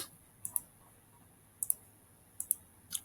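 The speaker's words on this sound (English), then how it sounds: "And I'll just click" A computer mouse clicks close by in quick pairs, four short bursts spread over a few seconds against faint room hiss.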